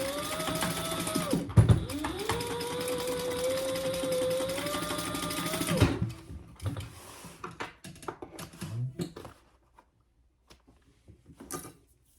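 A sewing machine runs close up in a steady whirring burst for about six seconds while stitching a boxy bag seam, followed by quieter handling clicks and rustling.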